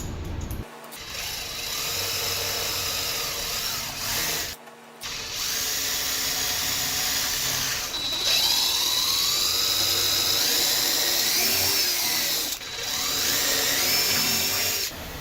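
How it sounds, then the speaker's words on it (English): Power drill boring out holes with a larger bit, a steady whining motor running almost continuously at close range with a couple of brief pauses and shifting pitch as the bit cuts. "I'm going to use my larger drill bit"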